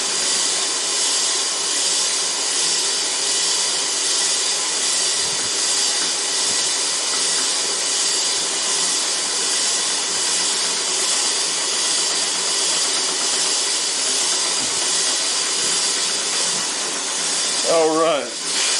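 A 2000 grit pad sands a facemill arbor spinning on an Atlas lathe, giving a continuous loud broadband hiss that runs steadily throughout, with a brief voice near the end.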